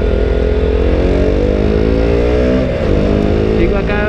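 A KTM RC 200 motorcycle accelerates smoothly with a loud, steady engine drone whose pitch rises gradually, heard close up with no talking over it.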